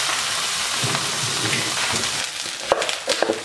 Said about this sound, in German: jetzt ist die Pfanne warm, das Fleisch anbraten.